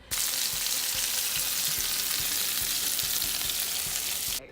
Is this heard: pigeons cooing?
no